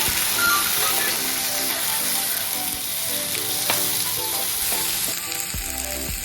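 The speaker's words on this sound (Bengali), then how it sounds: "এখন দিয়ে দিচ্ছি টমেটো কুচি টমেটোটাকে আমি ভেজে নেব" Chopped tomato frying in a pan with onion, garlic and ginger, a steady loud sizzle with occasional stirring scrapes throughout, no voices.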